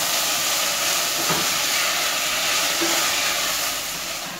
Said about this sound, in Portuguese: Agora é só vir aqui com o brócolis e refogar por uns 3 minutos.